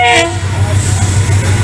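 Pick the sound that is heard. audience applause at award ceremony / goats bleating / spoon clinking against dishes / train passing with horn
train passing with horn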